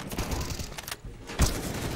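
Bursts of video game gunfire crack out in a rapid fusillade, with a sharper, louder shot near the end standing out from steady firing.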